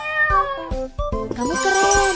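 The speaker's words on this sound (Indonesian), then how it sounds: "ayo temukan anak kucing." A cartoon kitten in a BabyBus children's mobile game meows several times in quick succession, bright and close, over light game music.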